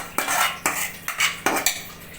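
A spoon scoops a cooked bottle gourd and masala mixture into a vessel, producing four or five distinct metallic scraping clinks in an even rhythm, close up.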